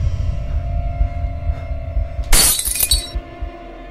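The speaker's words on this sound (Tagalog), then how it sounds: "Oh, may nabasag." A sudden bright crash of breaking glass bursts out once in a dark Roblox horror game, scattering briefly into tinkling fragments before a low electronic hum settles back.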